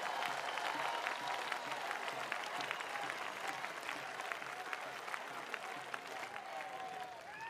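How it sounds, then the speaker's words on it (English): A large audience claps at the Isha Gramotsavam grand finale, the 15th edition of the village games festival, a continuous, even roar of applause from a big outdoor crowd lasting several seconds. "So clap 15 times for the Gramotsavam and the Isha Foundation."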